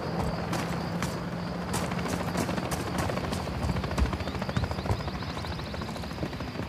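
Helicopter rotor noise from the video game Call of Duty MW3, a steady loud whirring drone filling the whole stretch with faint game effects layered on top and no talk.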